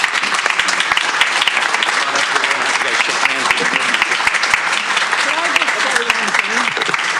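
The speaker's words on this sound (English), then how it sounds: "Can we give her a huge round of applause?" Applause from an audience at a school district board meeting, a dense sustained clapping crowd that fills the room for the whole stretch.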